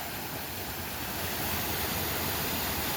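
Waterfall fed by a neighbor's pond, spilling over its top on rural land: a steady, broadband rushing roar, close and continuous with no pauses and no voices.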